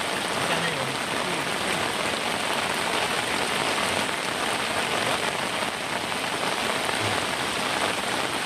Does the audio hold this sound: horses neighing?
no